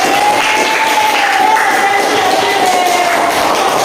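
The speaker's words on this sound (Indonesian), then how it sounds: "Tepuk tangan untuk kelompok An-Naim." A classroom of students applauds a winning student group during a religious lesson, steady dense clapping filling the whole stretch with a thin sustained tone running over it.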